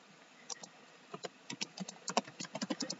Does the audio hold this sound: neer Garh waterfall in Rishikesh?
no